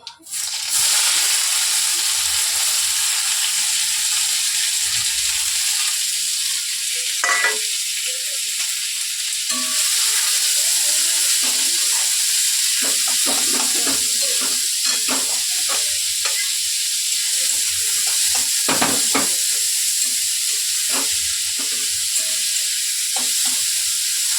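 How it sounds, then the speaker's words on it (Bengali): Chopped onion hits hot oil seasoned with nigella seeds in a pan, setting off a steady loud sizzle with intermittent stirring clinks and scrapes throughout. "কালো জিরে ফোড়নে দিয়ে পেঁয়াজ কুচোটা দিয়ে দেব"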